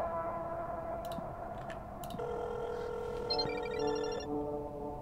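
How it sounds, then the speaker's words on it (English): A phone ringtone plays a repeating electronic melody in the Chilla's Art horror game Parasocial, moderately loud over a humming room ambience with no talking. "Asuka's ringtone?"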